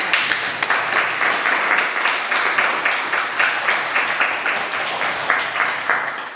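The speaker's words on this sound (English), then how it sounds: "I really would like to give him a round of applause" A crowd applauds steadily at a town council meeting, dense clapping holding at an even level throughout with no talking.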